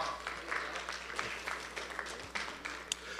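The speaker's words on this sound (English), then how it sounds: "Yeah, go ahead, clap." At a sports banquet, an audience claps in a looser, thinner patter of scattered hands, uneven and somewhat sparse, with a few sharper individual claps standing out.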